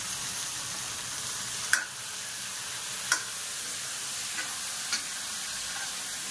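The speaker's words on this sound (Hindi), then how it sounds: "अब इसमें डाल देती हूँ टमाटर।" Tomatoes frying in a pan with potatoes, onion and peas give a steady, close sizzle, broken by a few soft clinks of stirring.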